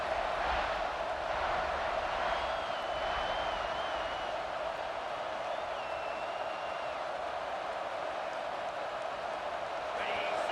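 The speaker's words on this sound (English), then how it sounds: "The roar of the crowd trying to fuel this defense" A stadium crowd roars steadily in EA Sports College Football 26, a constant distant wash of crowd noise with faint whistles, sustained at even volume throughout.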